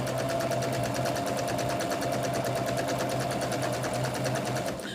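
A sewing machine runs steadily as it feeds fabric through the feed dogs, its needle ticking in a fast, even mechanical rhythm under a low motor hum, close and moderately quiet without pause.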